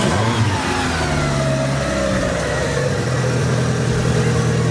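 An old Renault Scenic's engine revs steadily and close by, a continuous mid-pitched drone that rises and settles over several seconds, with no talking.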